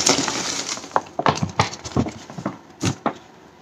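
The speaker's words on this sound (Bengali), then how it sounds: "আমরা এখন এই ব্যাগ থেকে আমাদের টোকেনগুলো ঢেলে নেওয়ার চেষ্টা করব।" Small lottery tokens tumble out of a bag in a quick run of bright clinks and rattles, several close sharp clusters over a few seconds with no talking.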